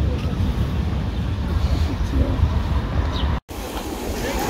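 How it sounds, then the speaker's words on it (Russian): Sea waves near the shore on the Turkish coast, a continuous loud roar of surf with wind buffeting the microphone, one brief dropout near the end. "волна формируется, но сюда не дойдет."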